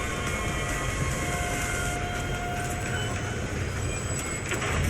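A train in the Fortnite video game rolls past with a dense, steady mechanical roar and faint high whines, loud and continuous throughout with no speech.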